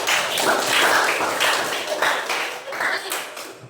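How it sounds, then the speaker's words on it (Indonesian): Hands clapping in a classroom, a rhythmic series of sharp, close claps in a quick beat, fairly loud and steady, with children's voices faintly mixed in. "Tepuk tangan dulu"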